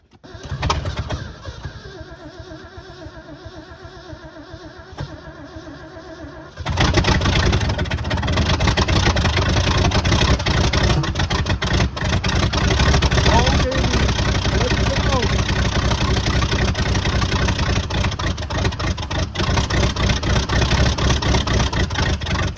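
A 1971 Ford F-350 truck engine with a newly rebuilt carburetor cranks briefly and then catches, settling into a loud, steady, rough idle that runs on for the rest of the clip, close up.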